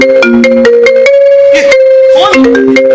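A loud, melodic phone ringtone plays a sequence of bright electronic tones during a Kannada/Tulu village stage play, filling the whole moment on its own.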